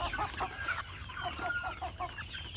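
Chickens cluck softly and intermittently against a low background rumble, the calls faint and somewhat distant.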